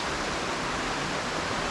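Small waterfall about a foot tall inside Boulder Cave, a steady close hiss of falling water filling the space with no voices.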